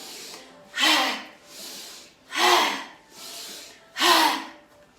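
Forceful, rhythmic yoga breath-of-fire breathing in a morning class flow: three loud sharp exhalations alternate with softer inhalations over five seconds, close and clear with no talking.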